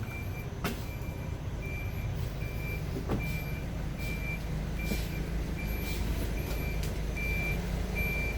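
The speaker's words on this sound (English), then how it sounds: "Here I am on the public bus" Inside a public bus in Bangkok, a steady engine and road rumble fills the cabin while a high electronic beep repeats at a regular pace, with a few sharp clunks and rattles.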